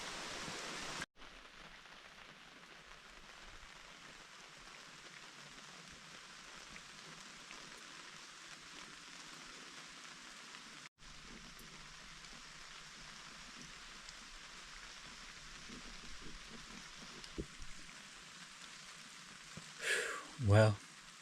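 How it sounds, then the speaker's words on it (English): Steady monsoon rain falling, a continuous even hiss with no breaks, ending in a couple of closer knocks and rustles. "rain seems to be slacking off just a little bit"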